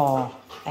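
A rescue dog whimpers in a few short, high, whining cries at close range, with someone speaking over and between them.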